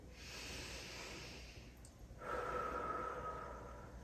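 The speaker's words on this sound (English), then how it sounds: "take a deep breath" A person taking a slow, deep breath: a soft, drawn-out airy inhale followed by a longer, slightly louder exhale, close and quiet with no talking.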